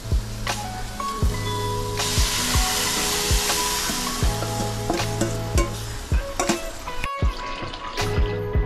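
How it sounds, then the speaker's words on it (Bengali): Bengali-style tomato masoor dal is stirred and mixed in a pot, with a steady bubbling sizzle under repeated rhythmic scraping strokes and occasional knocks of the spoon, close by and with no talking. "এখন আমি দেখুন এই ডালটাকে মিশিয়ে দেব।"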